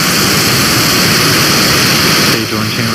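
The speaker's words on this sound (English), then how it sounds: "Ignition. And liftoff." Rocket engines roar at a Starlink launch liftoff as a dense, continuous, very loud rumble that fills the whole stretch, with no pauses and no speech.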